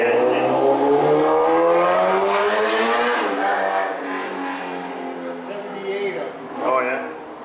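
A passing car winds out first gear outdoors, its engine climbing in pitch as it revs hard for a few seconds, then easing off and fading as it moves away.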